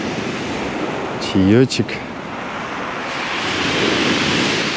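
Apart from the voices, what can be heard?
sea waves on a pebble beach at sunset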